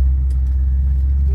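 A 1964 Mercury Marauder with a 390 V8 cruises along, its engine a steady, loud, smooth low rumble from inside the car with no speech.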